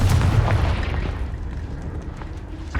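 Hogwarts Legacy's Confringo blasting spell goes off as a deep, loud explosive boom at the start, rumbling and slowly fading over a few seconds, with a small pop at the end.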